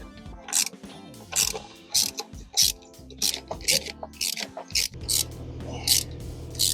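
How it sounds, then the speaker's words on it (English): Four T30 bolts being loosened from the intake cover of an Audi S4 with a ratchet, producing repeated bursts of rapid, bright clicking in a steady back-and-forth rhythm, close and loud, with light metallic handling between strokes and no talk. "There are 4 T30 bolts or screws that I need to remove."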